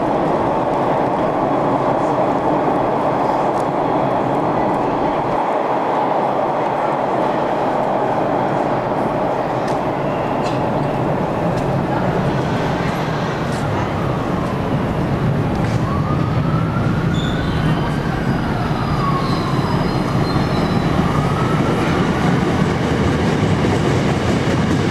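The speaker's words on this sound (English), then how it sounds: "There's a train coming." A train pulls into a station on a Boston trip, its steady rumble and rail noise filling the whole stretch loud and close, with faint squealing brake tones rising and falling near the end and birds in the background.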